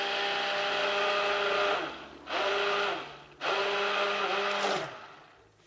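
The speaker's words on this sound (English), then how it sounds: "Since I'm dealing with small batches, then I mix at a low agitation." A mixer stirs a small batch of bar soap at low speed, its motor whirring in three steady bursts that stop and restart with brief pauses between, close and moderately loud.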